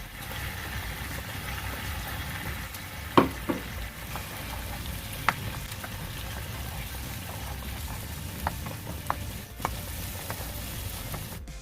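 Prawns frying in ghee with masala for a Mangalore-style ghee roast make a continuous crackling sizzle, with a handful of louder pops and utensil clinks spread through the stretch.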